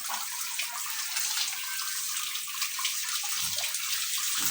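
Strong water gushes from a deep well G.I. pipe, a loud, continuous hissing rush that stays steady and close throughout, with no talk.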